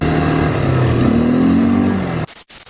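A quad bike engine drones loud and close, its pitch climbing as it revs for about two seconds, then the sound cuts off abruptly into a couple of short choppy bursts.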